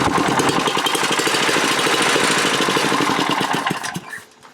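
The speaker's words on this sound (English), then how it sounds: "So it floods it out initially and then idles way up." A small engine on a go-kart rescued from a scrap yard, its carburetor throttle shaft worn loose, runs loud and close with a rapid, rough, pulsing idle, then dies away sharply near the end.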